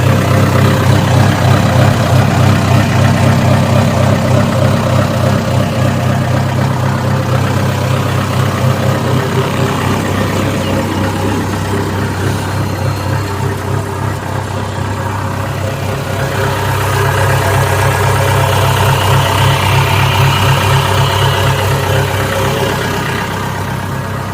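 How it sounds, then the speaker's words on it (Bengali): A Kubota King tractor engine idles steadily at close range, a loud, even, low rumble that holds for the whole stretch with no voices over it. "এখন ইঞ্জিনের সাউন্ডটা শোনো"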